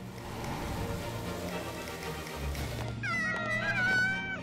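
A cartoon cat meows in an animated superhero episode, a wavering high cry rising over a busy background of music and effects near the end.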